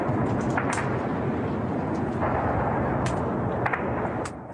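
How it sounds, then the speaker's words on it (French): Artillery fire at the Zaporizhzhia nuclear power plant at night, heard as a loud, continuous rumbling roar with a few sharper cracks over it, and no talk. "Des tirs d'artillerie sur un site nucléaire."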